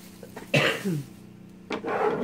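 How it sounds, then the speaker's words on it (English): A person coughs twice, short harsh bursts close by with a pause between them and a faint background hum. "pardon my cough"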